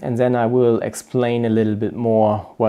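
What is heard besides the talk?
No distinct noise like a dog, phone or traffic.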